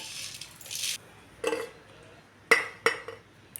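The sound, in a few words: crushing unpeeled garlic cloves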